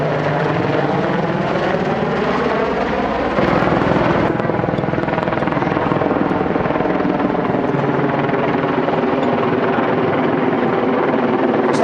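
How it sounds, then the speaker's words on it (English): An Apache attack helicopter climbs steeply and bunts over at an air display at Dunsfold, its loud, steady rotor thrum and turbine whine swelling and shifting pitch throughout, with no talk. "Converting speed to height, the pilot once again minimises the threat of ground fire, this time with a rapid climb and bunt"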